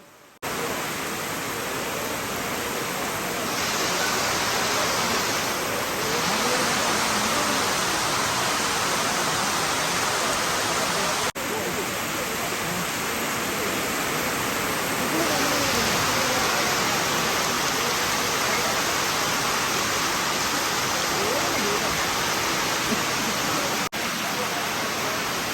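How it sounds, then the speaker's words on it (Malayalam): Heavy rain pouring steadily, a dense continuous hiss that fills the whole stretch without pause, loud and close with no voices over it. "മഴ കനത്തു"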